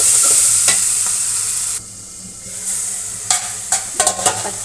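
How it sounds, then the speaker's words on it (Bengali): Bengali spice paste of turmeric, chili powder, salt, ginger-garlic paste, coriander and cumin stir-fried in a pan for hilsa curry: steady loud sizzle with a softer lull midway, then sharp scraping stir strokes near the end. "দিয়ে দেবো হলুদ গুঁড়ো, লঙ্কা গুঁড়ো, লবণ, আদা রসুন পেস্ট, ধনে আর জিরে গুঁড়ো একসঙ্গে দিয়ে এভাবে"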